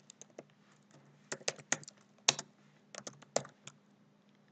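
Code being typed on a computer keyboard, heard as close, crisp key clicks that come in short irregular bursts with brief pauses between them, with no talking over it.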